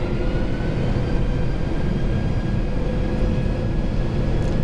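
Boeing 747 engines spool up for takeoff in a flight simulator game, a steady, broad low roar holding even throughout with no talk over it.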